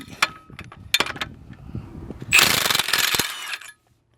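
An impact wrench on a car's lug nuts gives a few short bursts after some clanks of handling the socket, then one sustained loud rattling hammer lasting over a second before cutting off abruptly.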